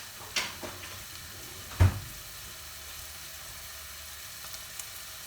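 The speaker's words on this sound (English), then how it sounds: "it has started heating up already, as you can hear the sizzling." Chunks of chicken sizzle in a hot pan at the start of a mild curry, a soft steady frying hiss close by, broken by a couple of brief clinks or stirs.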